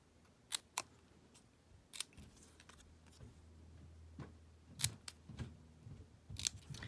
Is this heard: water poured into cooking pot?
no